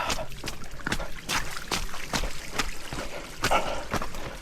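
Water splashing and trickling around feet while walking through a stream on a mountain trail run, with irregular sloshing steps, close and fairly loud, no talking.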